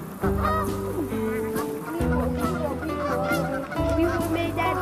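Geese honk loudly and repeatedly, a noisy cluster of overlapping calls nearby with no talking.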